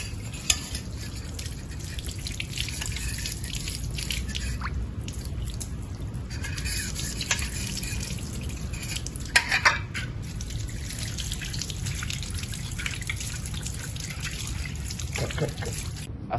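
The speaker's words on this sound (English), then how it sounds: "the washable vacuum parts are washed with water so that there are no more oily and sticky stuff" Running water rinsing washable vacuum cleaner parts, a steady wash and trickle with occasional clatter of the plastic pieces, continuous and fairly close throughout.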